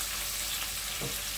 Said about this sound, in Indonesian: Jadi goreng teri ini tidak dikasih apa-apa lagi kecuali hanya garam